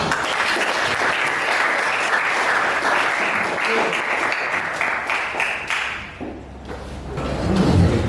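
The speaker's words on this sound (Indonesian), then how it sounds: "Tepuk tangan untuk kita semua." Steady applause from a roomful of people in a classroom lesson, clapping loud and continuous before tapering briefly near the end and picking up again.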